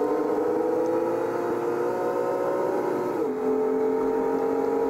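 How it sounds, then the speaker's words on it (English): A truck engine in the driving game American Truck Simulator holds a steady, whining engine drone, then drops in pitch for a moment before settling at a lower, even tone; no speech. "Sounds like a race car with the accelerated speed"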